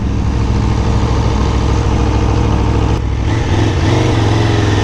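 An Aprilia RSV4 motorcycle engine runs at a steady idle, a loud, continuous low rumble close by that shifts slightly in tone partway through, with no talking.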